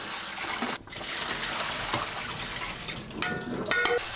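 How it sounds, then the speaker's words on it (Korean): Boiled peanuts being rinsed in water and drained through a sieve, with a steady splashing and trickling wash of water that swells briefly near the end. "물에 헹굽니다."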